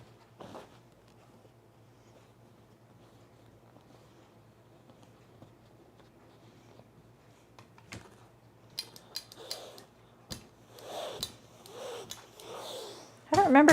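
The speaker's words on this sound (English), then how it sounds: "I need to trim down the seam though, because I sewed this kind of wide for how wide I cut my binding" Scissors snipping through a wide fabric seam on cargo shorts, a run of quiet close cuts and rustles after a stretch of near silence, ending in a louder handling noise.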